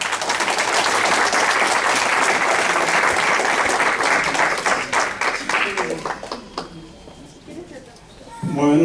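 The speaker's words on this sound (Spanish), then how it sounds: "pedimos un fuerte aplauso" A crowd claps loudly and steadily to welcome author Jaime Latorre to the stage at a book presentation in Piura, then the applause thins and fades out, and a voice briefly starts speaking at the very end.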